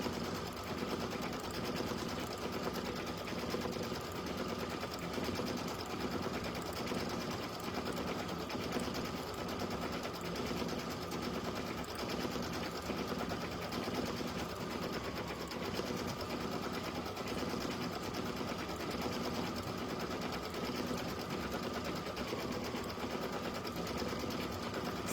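A sewing machine runs fast and continuously, a steady dense whirring and rapid needle chatter at constant loudness, close and alone with no talk.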